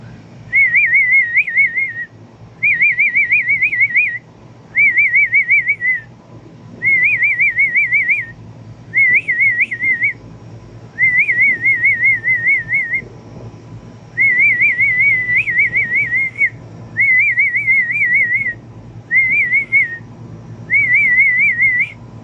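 A person whistles a repeated warbling call to summon pet pigeons, about a dozen loud, close bursts of roughly a second or two with short pauses between, over a soft low background rumble.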